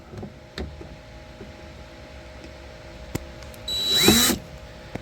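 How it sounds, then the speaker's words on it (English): A power drill drills the heads off old screws in a boat galley on a C&C 39 sailboat, a few short bursts at first, then a louder whirring run near the end. "So we'll replace them with stainless steel screws, but we'll just drill the heads off."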